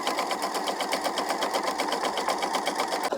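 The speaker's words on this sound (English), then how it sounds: "I would simply just keep sewing and sewing all the colors" A sewing machine runs continuously, stitching 10-inch layer cake fabric squares in a rapid, even, rattling rhythm that stays loud and close throughout, with no voices.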